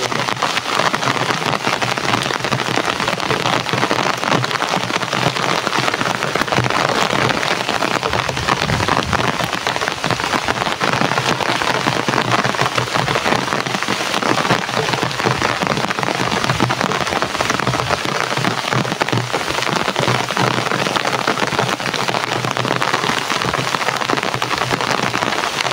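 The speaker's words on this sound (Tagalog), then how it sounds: "Nakikita nyo naman yung ulan, no?" Heavy rain pours down without a break, a loud, dense hiss of drops drumming on surfaces close by, with no voices.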